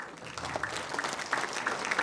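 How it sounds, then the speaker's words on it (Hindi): Audience clapping at a Viksit Bharat Sankalp conference hall event in Jaipur, a short burst of dense applause from a seated crowd, fairly close and steady for about two seconds. "ऐसे गोपाल जी गुप्ता का भी ताली बजाकर स्वागत कीजिए"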